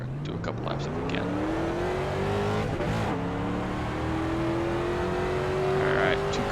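A street stock race car in the iRacing sim at Charlotte drones steadily at high revs, its engine pitch rising slowly as it laps, loud and continuous with a brief shift-like dip midway.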